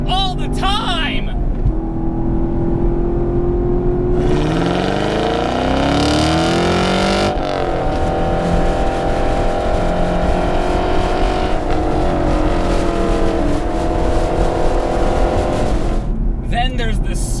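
Chevrolet Camaro SS 1LE or Mustang GT Performance Pack V8 muscle car engine revving and pulling hard through the gears, loud and close with rising pitch sweeps and a shift, while someone talks over it.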